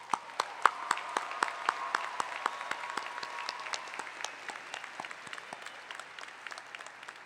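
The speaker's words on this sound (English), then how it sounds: "let's give those people a round of applause." Fairly distant applause from a commencement ceremony audience, with a few sharp individual claps standing out over the steady patter.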